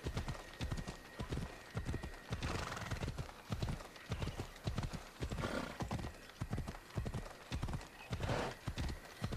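Rhythmic clip-clop of a galloping horse's hooves in the video game Assassin's Creed Odyssey, a fast, even beat running throughout at moderate level, with a neigh mixed in.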